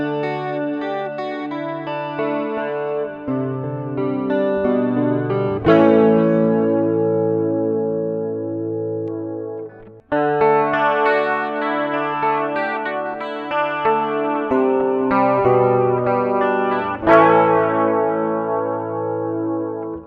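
Firefly FFLP Les Paul style electric guitar played through a clean rig with chorus and a touch of reverb, ringing chords and arpeggios across about twenty seconds, with a brief break near the middle.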